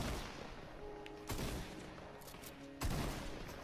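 Gunfire in the video game Fortnite: two sharp, loud shot bursts about a second and a half apart, standing out over a low game background with no talk.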